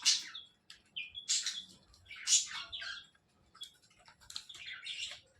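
Green parrots bathing, giving bursts of sharp chirps and squawks in irregular clusters, close and fairly loud against a quiet background with no talk.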